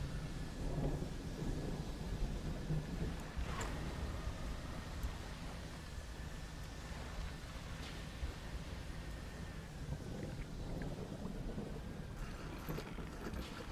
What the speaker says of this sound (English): We should not be out here in a storm.